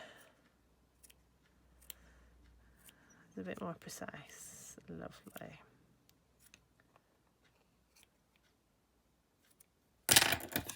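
Scissors snip at a wool pom pom in sparse, sharp close cuts spread across the stretch, with someone speaking briefly in the middle and a loud rustling burst near the end.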